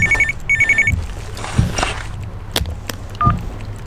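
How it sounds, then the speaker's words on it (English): A telephone rings loudly with two quick bursts of electronic trilling, followed by thumps and movement noises and a brief final tone as someone searches for it nearby. "Stop ringing, stupid phone."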